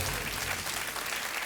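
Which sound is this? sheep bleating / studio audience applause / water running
studio audience applause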